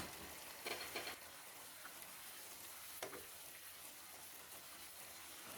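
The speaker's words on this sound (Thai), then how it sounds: "ผัดให้ทุกอย่างเข้ากันครับ" Chicken is stir-fried with roasted chili paste, sugar, soy sauce and fish sauce in a pan, producing a faint, steady sizzle with a few brief bursts of stirring and scraping near the start and middle, without any talk.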